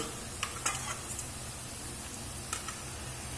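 Onions sautéing in a pan with crushed ginger for a chicken roast, a soft, steady sizzle with a few light utensil clicks, fairly quiet with no talking.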